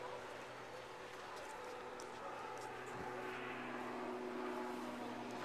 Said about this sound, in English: Here comes the little plane in.